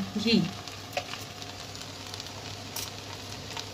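Ghee sizzles in a pan of prawn pulao, a brief voice at the start giving way to a quiet, steady frying hiss with light clicks, close by.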